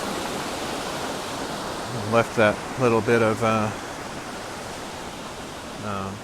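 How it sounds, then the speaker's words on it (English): Ocean waves wash steadily on a shore as a constant, even roar throughout, while someone speaks briefly in the middle and again at the end. "recording with just the waves so I can maybe use that sound later for something"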